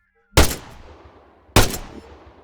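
Gunfire in the video game Arma 3: two sharp, loud shots about a second apart, each with a decaying echo tail, with no talk.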